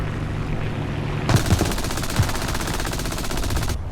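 Sustained rapid machine gun fire aimed at a Soviet biplane in a combat video game, a dense steady rattle lasting over two seconds that starts abruptly and cuts off sharply, over a low background hum.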